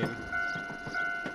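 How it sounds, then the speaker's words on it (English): A departing video-game train rumbles steadily with a sustained tonal hum and faint rhythmic clacks, moderately distant, with no voices. "Oh, it's a train. Primeval plesiosaur. Oh, it's leaving now. So long, train."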